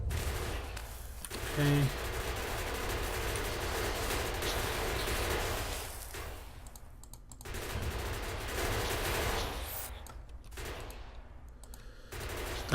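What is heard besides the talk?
gun turrets firing at biters in video game Factorio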